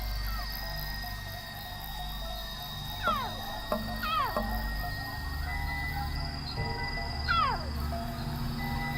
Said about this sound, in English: That's Katswiri's cry.